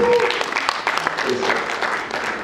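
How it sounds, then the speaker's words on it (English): A church congregation applauding, a dense continuous patter of clapping held at a steady level for a few seconds, with a voice speaking over it. "Clap for them, those of you who have been there, they're doing a good job."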